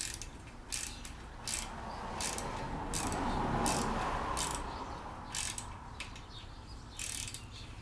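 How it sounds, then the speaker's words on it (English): A small bolt is tightened back onto a bicycle's shifter mount, heard as repeated sharp ratcheting clicks in short bursts between quieter handling noise, close and with no talking. "there's a little bolt here I'm going to put back on."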